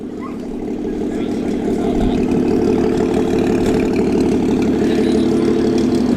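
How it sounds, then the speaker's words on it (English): A classic six-cylinder car idles at Bicester Heritage's January Sunday Scramble, a close, steady exhaust burble that holds evenly throughout. "Lovely 6-cylinder burble."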